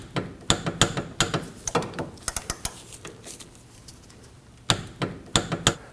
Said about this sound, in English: we can torque the slide pin bolts to